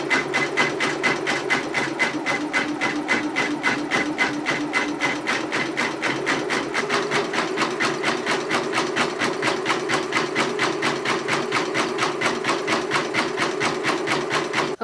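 A Janome MB-4s embroidery machine stitches a border around an appliqué design on a toddler T-shirt, a loud, fast, evenly repeating mechanical clatter that runs without a break and with no talking.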